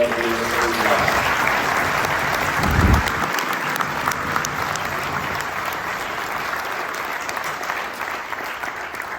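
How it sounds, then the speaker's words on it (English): A large crowd cheers and applauds for Gumball 3000 rally participants, with sustained clapping and whoops filling the space at steady loudness throughout, and a brief low thump partway in. "a big cheer please for every Gumballer that has been part of the Gumball"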